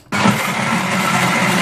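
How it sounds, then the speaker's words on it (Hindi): A blender whirs steadily as it blends strawberry lassi with sugar, rose water and ice cubes, starting abruptly and running loud and continuous close by with a low motor hum. "अब हम इसको ब्लेंड करेंगे।"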